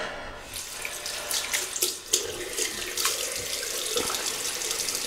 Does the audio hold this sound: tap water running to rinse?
yes